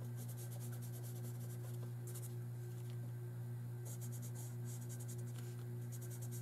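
Medium colored pencil strokes on paper while drawing a bunny, with repeated scratchy bursts of hatching separated by pauses, close and soft over a steady low hum.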